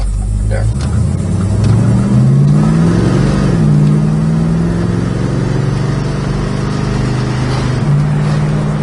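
A 1967 Dodge Dart drives with a steady, loud engine note that rises and drops as it shifts through gears, running smoothly close by with no talk over it.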